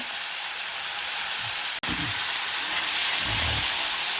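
Ivy gourd (kovakka) sautéing in a hot pan gives a steady, close hiss and sizzle throughout, broken by one sharp click near the middle and a few soft low knocks.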